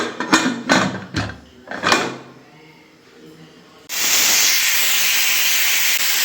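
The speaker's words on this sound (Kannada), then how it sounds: "ಒಂದು ಮೂರು ಕೂಗ್ ಕೂಗಿಸ್ತಾ ಇದ್ದೀನಿ ಕುಕ್ಕರ್ ಮುತ್ತಾ ಇದ್ದೀನಿ" After a few close clattering knocks, a pressure cooker cooking mutton for sambar lets out a sudden loud, steady hissing steam whistle that holds to the end.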